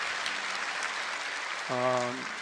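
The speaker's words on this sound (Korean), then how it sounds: "오케이, 박수하겠습니다." Church congregation applauding at the close of a worship service, a steady wash of clapping throughout, with a brief harmonic tone, like a sung or sustained note, rising near the end.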